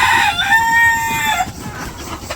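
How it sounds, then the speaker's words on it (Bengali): A chicken in a village yard gives a drawn-out, high crowing call lasting about a second and a half, close and clear over a faint rustling background. "ডাকও পারতেছে মুরগিতে"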